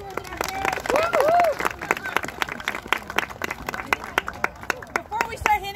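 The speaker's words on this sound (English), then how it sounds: "So a round of applause for our volunteers and our parents." Applause and cheering from parents and volunteers at a children's sports medal ceremony, scattered claps and whoops rising under a speaker's voice, then thinning into sparse claps.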